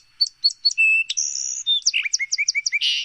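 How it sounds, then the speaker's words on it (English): A song sparrow sings a clear, close phrase: a few opening notes, a held trill, then a quick series of rhythmic chirps ending in a buzzy burst. "song sparrows. Which, if you're talking about a bird that has a beautiful song"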